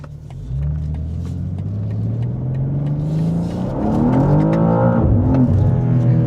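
A 2025 BMW M2 performance coupe with rear-wheel drive accelerating hard, its engine note climbing steadily through a gear, then a quick shift and another rising, loud, close-up rev with no talking.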